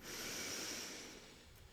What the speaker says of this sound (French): tu vas inspirer par le nez comme tout à l'heure en gonflant bien ton ventre.